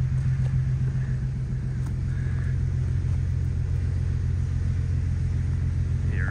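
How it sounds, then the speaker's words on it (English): A lorry's heavy engine rumbling steadily close by around early morning, a deep continuous drone with faint squeaks and a brief high whine near the end, no voices. "the lorry's just turned up"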